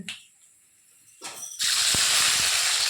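Chopped onion hits hot oil already tempered with bay leaf, whole cumin and garlic, bursting into a loud, steady, close sizzle that holds to the end after a brief quiet clatter.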